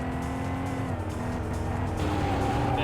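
Car engine droning steadily while driving in the PS1 racing game Vanishing Point, with occasional tire squeal over a continuous, close, loud motor hum and no talk.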